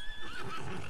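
Horse in the video game Ghost of Tsushima giving a short, clear whinny with a rising-then-falling tremble, close and prominent, with faint hoof sounds beneath and no talking.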